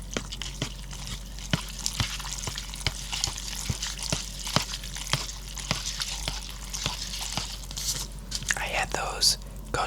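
Soft, close sticky stirring and slurpy clicks of Buldak spicy ramen noodles being mixed in a bowl, a steady run of small wet ticks under quiet whispered talk.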